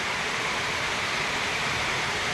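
Dense, steady roar of heavy rain drumming on a metal roof, constant and loud with no pauses.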